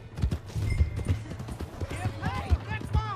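A horse galloping in Red Dead Redemption 2, its hooves pounding in a quick, regular clip-clop rhythm throughout, while a voice calls out over the hoofbeats.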